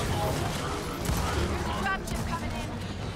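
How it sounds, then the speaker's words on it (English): Dense, continuous gunfire and mechanical clatter from a Gears of War 4 firefight, a loud unbroken barrage with a shotgun in the mix and voices talking over the din. "Let's get with the shotgun."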